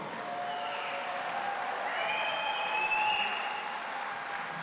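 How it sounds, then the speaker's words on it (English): An audience at a live show claps steadily and loudly all the way through, a dense sustained round of applause with faint whistles, heard alone without talking. "How about let's give one more round of applause for John Creasel"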